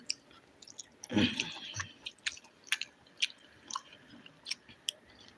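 Close, moist chewing of fried chicken, with one louder bite near the start and then steady soft chomps and smacks repeating at an even pace, with no talking.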